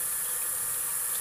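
Tap water runs steadily into a kitchen sink during dishwashing, a continuous hissing rush with no talking over it.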